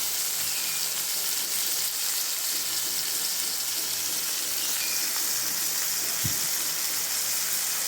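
Pomfret fish fries slowly in oil in a steady, even sizzle that holds at a constant level, with one short low knock near the end and no voices.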